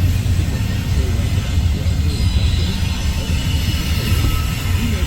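Local freight train from Gibson Yard heading to Council Bluffs, coming off the main line: a steady, loud rumble of rolling cars and locomotive throughout, continuous and close.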